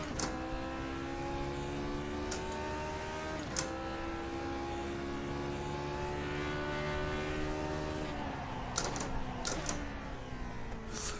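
A racing car in iRacing's GPL mod holds a loud, steady engine drone at full throttle, the pitch climbing gradually and then dropping at a gear change, with a few sharp clicks near the end.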